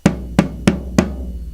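Four evenly spaced hits on a 14-inch floor tom, deep and boomy with a low resonant ring after each stroke, played close with nothing else heard.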